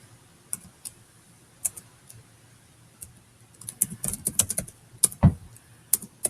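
Typing a search term on a computer keyboard: sparse, scattered key clicks early, then a denser burst of taps with a heavier thump near the end, close and fairly quiet.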